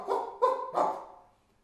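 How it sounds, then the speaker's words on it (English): A dog gives three quick, close barks in a row, and the last one fades out into quiet. "new dogs barking at her"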